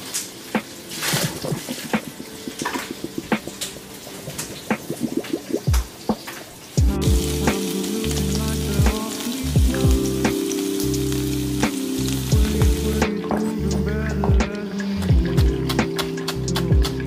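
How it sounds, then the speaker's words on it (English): Brown butter (beurre noisette) sizzling in a pan, a steady crackling fry with popping spatters, which jumps louder midway and keeps a busy rhythmic bubbling near at hand, with no voices. "This is going to continue to cook in the pan"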